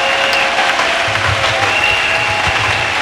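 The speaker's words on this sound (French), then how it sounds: "Applaudissons pour Jésus." A church congregation claps together in worship, a loud, dense and steady wash of applause that fills the room without a break.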